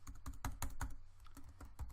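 Meme text typed on a computer keyboard, a quick run of close, crisp key clicks in an uneven rhythm, with a faint pause partway through before the tapping resumes.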